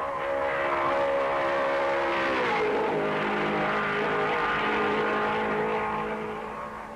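Racing cars roar past at the Raidillon bend, engines rising and falling in pitch as they accelerate through the corner, a loud continuous howl fading slightly at the end.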